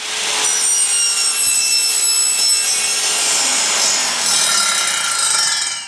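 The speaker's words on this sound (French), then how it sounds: "Et scie lentement, avec précaution." A hand saw rasps slowly and carefully through wood in long, loud, continuous strokes, close up, with no talking, while cutting a roller shutter box.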